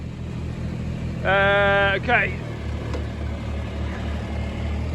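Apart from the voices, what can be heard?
old Kubota G23 lawnmower engine running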